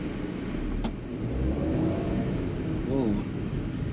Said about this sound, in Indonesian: Mesinnya 1000cc, 3 silinder, tapi non turbo ya.